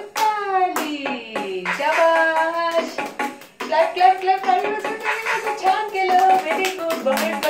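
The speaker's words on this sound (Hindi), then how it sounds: "पांच उंगलियां बोली बजाओ ताली" Children clap hands in rhythm during a kids' music therapy session, the claps tapping along under a sung counting chant with a voice, close and lively throughout.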